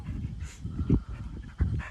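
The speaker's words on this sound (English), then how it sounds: "My guard dog." A dog pants in short, rough bursts close by, with a couple of louder huffs standing out from the steady breathing.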